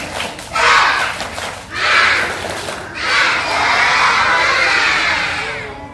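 Schoolchildren at an elementary school Ramadan program shout a rhythmic spirit clap chant in bursts, loud and close, with a crowd of young voices clapping and calling together.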